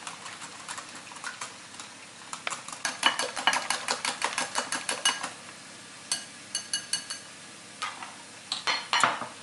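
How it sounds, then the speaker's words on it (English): Salted egg whites are whisked in a bowl, a rapid run of light rhythmic metal clicks and taps that comes in bursts with short pauses, close and fairly quiet over a faint background hiss. "I'm going to stir that up."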